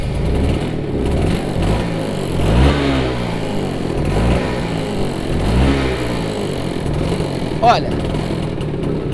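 A Vespa scooter's two-stroke engine starting and running, a steady buzzing idle with slight revving, while someone talks over it close by.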